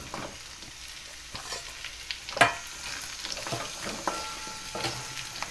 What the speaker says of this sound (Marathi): कैरी पण छान मिक्स करून घ्यायची मस्त.